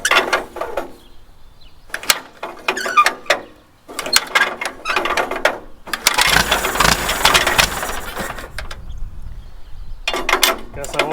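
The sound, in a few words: small farm engine starting with choke on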